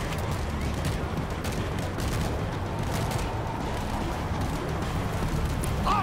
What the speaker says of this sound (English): Auto turret is live!